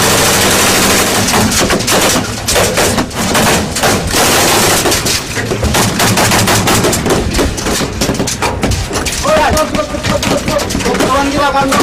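Gunfire exchange during the 2003 Aceh conflict between GAM fighters and police, dense bursts of machine-gun fire and rapid shots crackling continuously, loud and close, with shouted voices mixed in.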